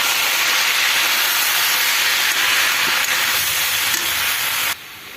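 Vegetables and cumin powder fry in a pan for a five-spice mixed vegetable dish, giving a loud, continuous, close sizzle that drops off sharply at the very end. No one talks.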